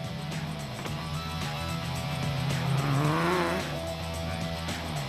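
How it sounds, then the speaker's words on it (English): Off-road rally race trucks, a Ford Ranger and a Toyota Hilux, roar past in the Sun City 400 with loud engines and a rising and falling rev as one passes close by. "the Unifreight car was coming under pressure from the Team Castrol Toyota Hilux of Duncan Foss and Rob Howie."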